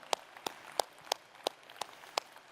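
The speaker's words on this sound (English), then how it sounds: "you should be clapping if you're a gamer" An audience at the Xiaomi 13 Series launch event claps in a slow, even rhythm, with seven sharp, separate claps spaced evenly apart and no talking.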